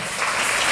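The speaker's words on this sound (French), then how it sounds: "Que celui qui croit à ces choses donne à Dieu une acclamation" A church congregation bursts into sustained, dense applause and acclamation, loud and close, filling the whole moment.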